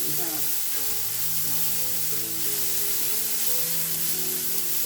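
Onions sizzle steadily in hot oil, close and continuous, with a faint background hum.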